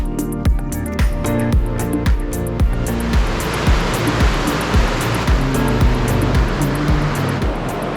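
A river flows steadily and loudly outdoors near hot springs in Chile, a continuous broadband rush with repeated low thumps and knocks layered over it throughout.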